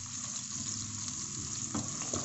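Shrimp sizzle and fry steadily in a hot pan while being stir-fried for chop suey, with a dense, continuous crackle and a brief stirring scrape near the end. No one talks.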